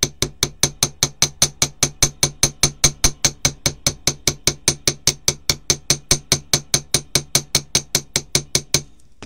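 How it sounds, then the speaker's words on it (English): Chasing hammer striking a wire-wrapped butterfly bracelet held between two panes of glass, a rapid, evenly spaced series of about forty sharp metallic taps, close and clear with no talk. "support the remainder of the design whilst you hammer section by section."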